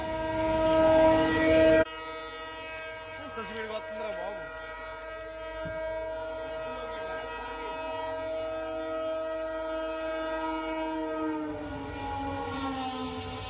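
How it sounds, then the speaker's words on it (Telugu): A train on the Hyderabad to Vasco express route near a beachside railway station sounds a long, loud, sustained horn close by, with rumbling rail noise underneath and people talking over it. "ఇది బీచ్, ఇది మన ట్రైన్. సో దీని మీద ట్రైన్ వచ్చేస్తుంది."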